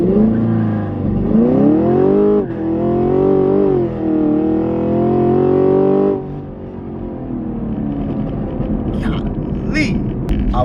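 A car in track mode with traction and sport settings on makes an automatic launch before any lowering. The engine revs climb hard in two rising pulls for about six seconds, then settle into a lower, steady driving drone.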